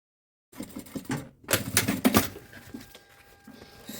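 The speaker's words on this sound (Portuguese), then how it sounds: "a gente vai só fazer a costurinha de segurança. Estica bem o plástico." A sewing machine runs a safety seam along stretched plastic for a small hygiene kit pouch. After a brief silence it clatters in rapid, close bursts, loudest in the middle, then thins to lighter ticking.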